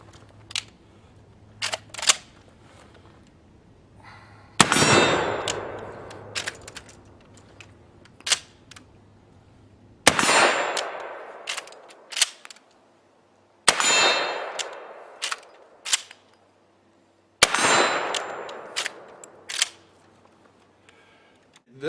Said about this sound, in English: today we're going to be shooting a rarity, the 1865 Spencer rifle